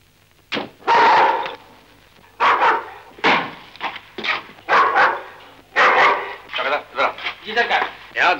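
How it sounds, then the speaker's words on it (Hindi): A dog barks repeatedly in loud, close bursts from a Hindi film scene, the barks coming in an irregular rhythm and mixed with voices or other sharp sounds. "कुत्ता किसका भौंक रहा है?"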